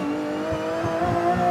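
An Aston Martin track hypercar engine revs hard and close, a dense, rising mechanical roar with layered harmonic growl that builds toward the end.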